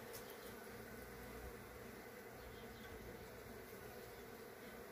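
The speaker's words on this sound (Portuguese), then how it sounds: "aqui nós estamos vendo a abelha tá chegando" Honey bees buzz steadily at a hive entrance in early morning as foragers arrive loaded with pollen, a dense continuous insect drone close by with no voices.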